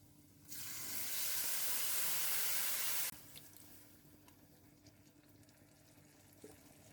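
Milk poured into a pan of roasted vermicelli meets the hot pan with a loud, sudden hiss lasting about two and a half seconds, then cuts off, leaving faint quiet bubbling and small clinks.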